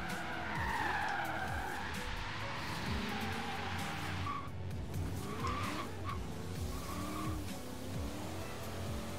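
A 1967 Chevelle SS in Forza Horizon 3 slides with the e-brake held, loud sustained tire squeal over a roaring, wavering engine, continuous and up close.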